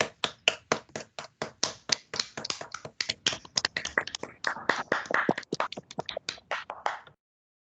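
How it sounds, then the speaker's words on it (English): A small group applauds a speaker at a mathematics lecture. The claps are distinct and close, fairly sparse rather than a dense roar, and they stop abruptly after about seven seconds. "Let's turn on the microphone and applaud our speaker."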